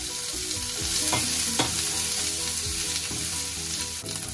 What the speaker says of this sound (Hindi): अनियन को हल्का सा ऐसे सॉटे करें 10 से 15 सेकेंड। उसके बाद इसमें शिमला मिर्च भी ऐड कर दें।